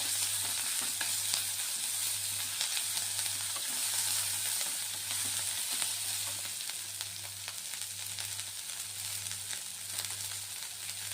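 Onion sautéing in hot oil with curry leaves and green chili for Kolhapuri misal, a steady close sizzle with intermittent scraping stirs and a low continuous hum underneath, no voices.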